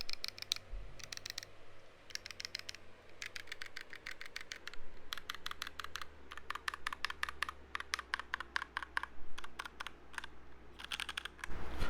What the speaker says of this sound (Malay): yang korang dengar tadi itu adalah red switch